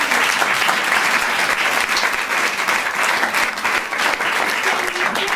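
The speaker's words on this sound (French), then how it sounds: "Applaudissements." Loud, dense audience applause at an improv theatre show, a continuous wash of many hands clapping without a break.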